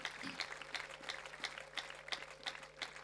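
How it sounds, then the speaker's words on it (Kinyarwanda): An audience claps in steady rhythm at a church choir concert, with even, evenly spaced beats that sound quiet and somewhat distant, and no one speaking. "Reka nanjye mbasabe dukomereye amashyi, muvugirize n'impundu"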